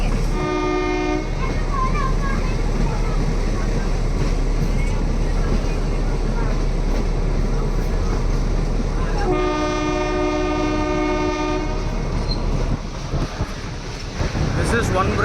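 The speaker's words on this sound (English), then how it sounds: "The loco will switch ends and take us to Marwad Junction." A metre gauge train rolls along the Mavli–Marwar line through the Goram Ghats in Rajasthan with a steady rumble and wind buffeting. A loud multi-tone horn blasts near the start and again in the middle.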